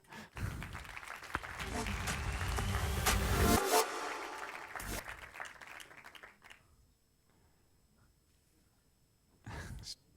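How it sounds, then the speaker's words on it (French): An audience claps and cheers in a burst of applause that swells for a few seconds, then fades to quiet, with a short burst returning near the end. "On peut applaudir."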